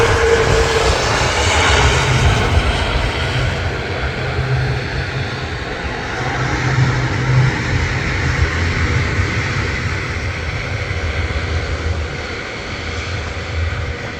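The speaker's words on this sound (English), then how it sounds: "Air Transat A330. Could it be a rhino landing or a textbook landing?" An Air Transat A330 airliner lands at Manchester Airport, a loud, steady jet roar rumbling broadly and continuously throughout with no voices.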